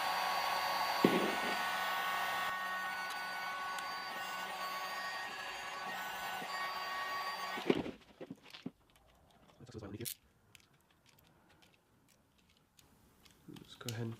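A heat gun heating carbon fiber vinyl on a BMW F30 interior trim piece gives a steady, loud blowing whir for about eight seconds, then cuts off, leaving faint handling clicks and taps.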